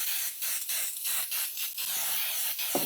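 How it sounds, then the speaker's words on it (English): Nonstick cooking spray with flour in it is sprayed into a 9 by 13 baking dish, a series of short, close hissing bursts with brief gaps, heard alone. "We're going to spray it with some nonstick cooking spray."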